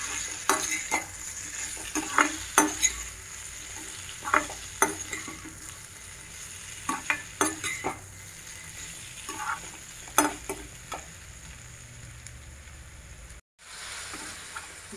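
Vegetables sautéing with cumin powder in a pan, a soft continuous sizzle punctuated by repeated sharp scrapes and clinks of a spoon stirring against the metal, in irregular bursts, with a brief dropout near the end.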